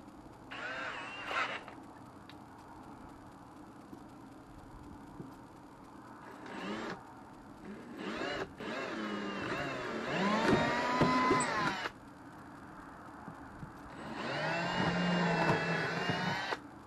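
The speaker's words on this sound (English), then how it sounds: "I'll drill these small holes first." A power drill whines in several bursts, short at first then longer grinding runs, boring small holes in a fiberglass boat gunwale, close by with quiet pauses between.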